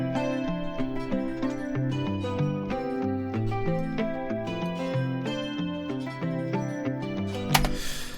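Two layered pop guitar tracks play together in a dense run of plucked notes over a fuller low end, steady throughout with a brief swell near the end.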